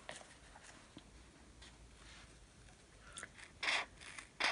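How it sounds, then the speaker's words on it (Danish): Scissors cut a self-adhesive repair patch along a traced outline: faint, soft snipping and rubbing at first, then a few louder, sharper cuts near the end. "Og så klipper jeg lappen til."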